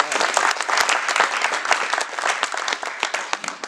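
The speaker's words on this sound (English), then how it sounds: "Please give them a big round of applause." An audience at a private invite networking event breaks into steady, dense applause, many hands clapping loudly and continuously throughout without pause.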